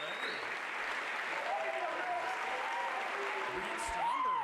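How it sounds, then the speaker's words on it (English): Steady clapping from a graduation ceremony crowd continues without a break, with voices calling out and cheering over the applause near the end. "we'll give you a nice round of applause"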